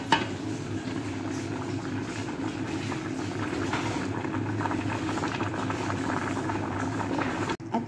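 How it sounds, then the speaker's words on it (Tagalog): Water at a rolling boil in a pot on the stove for cooking pasta, a steady bubbling churn holding at a constant level for several seconds, close and moderately loud, with no talking. "nagpapakulo na rin tayo ng tubig para sa ating pasta"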